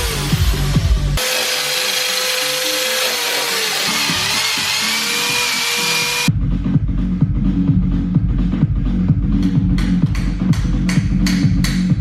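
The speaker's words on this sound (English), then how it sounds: "So I'll try to drill some holes in this plate and mount it up here" A power drill bores holes through a plate for mounting a DIY sim-racing handbrake: a steady, loud motor whine with rough broadband grinding for several seconds, then a sudden stop into a rhythmic, thumping background.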